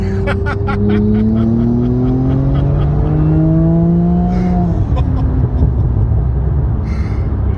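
A car engine revs hard and accelerates through the gears, pitch climbing with each shift, loud and close throughout.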